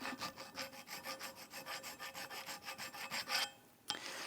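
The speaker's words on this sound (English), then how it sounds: "Go ahead and clean up the rusty surface there." Rust being scrubbed off the hub face of a Volvo XC60 front brake assembly with a wire brush, a rapid series of harsh, gritty back-and-forth strokes close by that stops abruptly near the end, with no one speaking.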